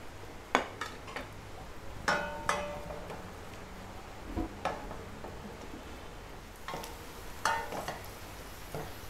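Garlic sautéing in melted butter in a pan, a low steady sizzle with scattered clinks and scrapes of a utensil against the pan, close and fairly quiet, with no talking.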